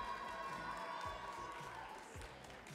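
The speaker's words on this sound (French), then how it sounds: "Et on applaudit Stéphane Pichat et Richard Domergue." Studio audience at a French cooking contest cheers and claps for two competing chefs as the timed round begins, a steady crowd roar with scattered shouts and low thumps.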